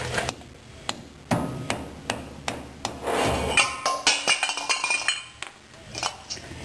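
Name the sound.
soft face hammer tapping car brake parts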